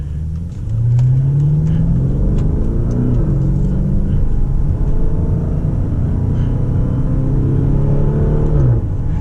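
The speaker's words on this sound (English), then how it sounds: "This is an SUV, but it sounds pretty good, even though it's a V8." Lamborghini Urus V8 SUV engine pulling steadily while driving, a loud, continuous throaty rumble that rises in pitch as it accelerates and holds strong for several seconds, with no voices over it.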